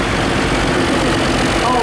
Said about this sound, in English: this is a Cummins 150 horsepower turbo charge engine